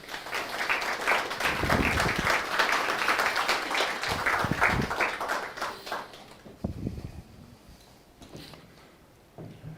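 Conference audience applauding after a talk, sustained crowd clapping that is loud for several seconds, then thins out and tapers to scattered claps.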